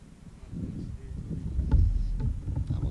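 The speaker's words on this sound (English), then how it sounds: "This wind blowing right back in this area." Low, rumbling wind gusts over a lake buffet the microphone from a boat, swelling louder through the middle, with a few faint knocks and clicks on top.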